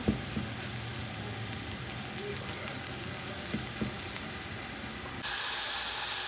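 Steady oily sizzling from onion and garlic frying in oil in a pan, with a few soft clinks and stirring taps, growing into a louder hiss near the end.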